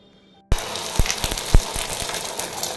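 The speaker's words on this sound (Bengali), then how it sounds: "গেলাম ডিম ভাজা করতে" An egg fries in a home kitchen pan, the sizzle starting abruptly and then crackling steadily and close, with scattered pops and no talk.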